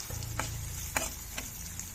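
Finely chopped beetroot pieces frying in a pan for a beetroot and moong dal curry, a steady soft sizzle with a few faint clicks of stirring, fairly quiet, no voices.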